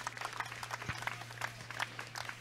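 Audience clapping during a political talk show, with a steady patter of hand claps at moderate distance, fairly faint and continuous over a low steady hum.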